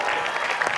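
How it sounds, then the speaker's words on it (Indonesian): Studio audience on the Indonesian dating show Take Me Out Indonesia applauds, a dense steady wash of clapping filling the short moment at even loudness. "Tepuk tangan buat Syarifah."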